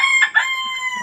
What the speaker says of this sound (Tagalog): dumating naman yung inahin. Taboy naman yung mga sisiw.